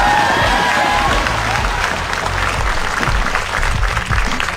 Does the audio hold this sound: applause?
yes